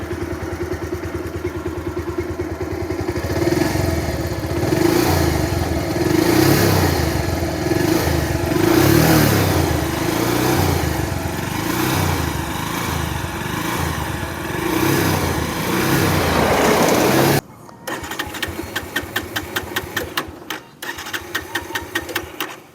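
A Bajaj Pulsar motorcycle engine runs steadily and loudly up close with a throbbing mid-pitched drone, then abruptly shifts to a choppier, sputtering idle for the last few seconds.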